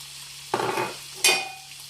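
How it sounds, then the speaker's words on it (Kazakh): Onions and garlic frying with spices in a pan, with two short bursts of sizzling and stirring, each rising sharply and then fading. "Енді осы пияз, сарымсақтар осылай қуырылды."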